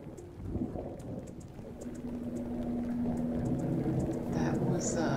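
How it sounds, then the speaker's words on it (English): Rain falls steadily in a Minecraft modpack as low thunder rumbles and swells, the storm growing louder toward the end. "Listen to the thunder."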